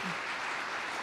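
Short burst of audience clapping at a conference session on critical infrastructure regulation, a dense steady patter filling the whole second with no voices over it.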